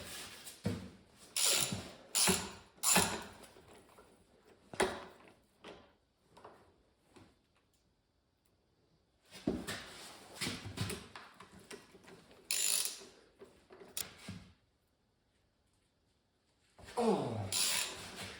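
A ratchet clicks in short bursts while bolts come out of a cheap backhoe grapple attachment, quick close ratcheting strokes separated by pauses and a few metallic knocks, fairly quiet overall.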